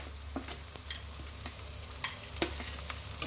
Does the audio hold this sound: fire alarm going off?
no